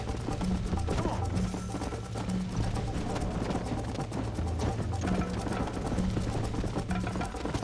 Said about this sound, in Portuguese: Será que eu subo na montanha com o cavalo e tudo?